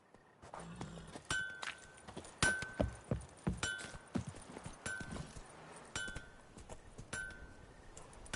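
Roach, a horse in The Witcher 3: Wild Hunt, trots with clear hoof clip-clops in a steady rhythm, each beat paired with a faint metallic clink of tack, moderately close.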